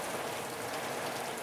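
Steady rain pouring down outdoors beside the Falgu river in Gaya, an even, dense hiss of drops on surfaces with no voices.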